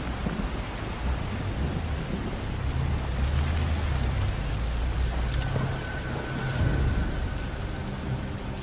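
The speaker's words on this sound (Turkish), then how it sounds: "Bu yağmurda mı?" Thunderstorm with heavy rain: a steady, dense hiss of downpour with low rumbling swells of thunder underneath, continuous and fairly even throughout, with no voices.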